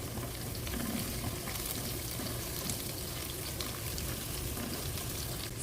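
Garlic, ginger and green chilies fry in hot oil with a steady, dense sizzle that holds continuously, faint stirring underneath and no talking.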